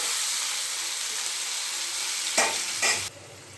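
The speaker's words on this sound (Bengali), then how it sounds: "এবারে দেখো, আমি ভেজে নিচ্ছি আলুগুলোকে" Potatoes fry in hot oil with a steady, close hiss and sizzle, broken twice near the end by brief louder scrapes of stirring.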